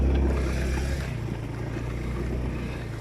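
A motorcycle engine revs with throttle applied, a loud, close, low drone that swells at the start and then settles into a steady hum with some wind noise.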